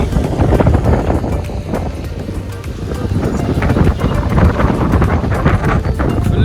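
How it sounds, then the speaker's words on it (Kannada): Strong wind at a viewpoint in Munnar, Kerala buffets the microphone continuously, a loud roaring rush with gusty swells and no pauses. "ಏನು ಗಾಳಿ ಗಾಳಿ ಗಾಳಿ ಗಾಳಿ ಫುಲ್ ಗಾಳಿ"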